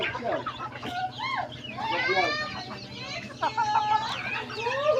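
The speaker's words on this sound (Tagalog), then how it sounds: "Meron pa tayong tandang dito na parang hulo siya" Native chicken hens cluck and squawk close by in a busy, overlapping chorus, with a rooster's calls mixed in and steady background noise.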